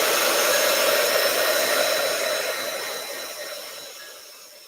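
A hair dryer blows over wet acrylic paint, a steady close whooshing hiss that slowly fades toward the end, with no voices.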